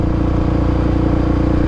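Steady police motorcycle engine idling or cruising close by, a continuous low rumble with even throb and no talk over it.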